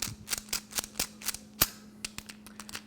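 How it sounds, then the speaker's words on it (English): Ignition key turning in a sticking, notchy lock cylinder, giving a run of sharp metallic clicks and ratcheting snaps with one louder clack, close up and with no voices. "when you turn it, you can hear all that noise in the lock"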